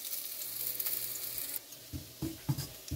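Garlic sizzles in a pan while being fried golden brown for garlic rice, a steady bright hiss that cuts out partway, then a few soft stirring scrapes, no speech.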